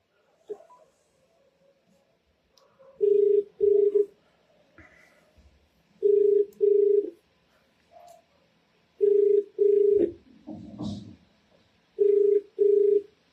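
A phone call goes unanswered as the ringback tone sounds in paired bursts, four double rings spaced evenly, loud and close, with faint background murmurs between them.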